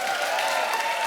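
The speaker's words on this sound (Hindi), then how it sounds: "एक बार जोरदार ताली हो जाए मेरी" Loud, dense applause from a studio audience at a television comedy talk show, a continuous wash of clapping filling the whole moment without a break.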